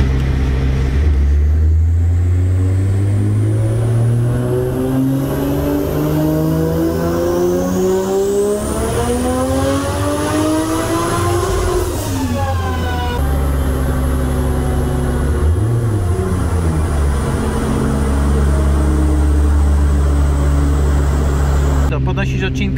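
BMW E46 with a 2JZ turbo engine revving on a dyno, a loud pull climbing steadily in pitch to a peak before dropping off, then settling into a sustained drone, with people talking throughout.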